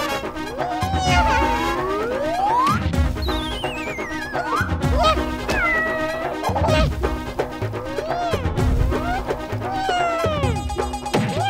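Cartoon cat meows in a Motu Patlu kids' cartoon, repeated whiny cries rising and falling over busy music and sound effects, loud and close throughout.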